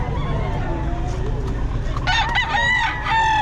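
Boston Hen gamefowl roosters crow at a busy market, one loud nearby cock-a-doodle-doo rising over a constant low crowd murmur and background clucking.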